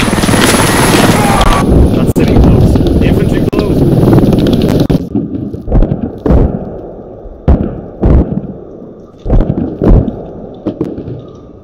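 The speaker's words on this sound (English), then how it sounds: "Chopper behind." A helicopter in the video game Squad roars loudly with heavy rotor wash and wind noise, then fades, followed by sharp distant gunshots and thuds while players talk.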